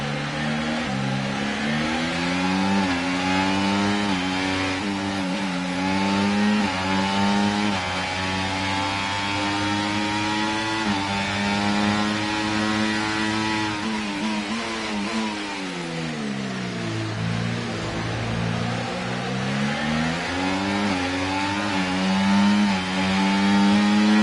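An internal combustion engine running and losing power, its note repeatedly revving up and sagging, dipping deeply mid-way before climbing again, steady and close with no talk.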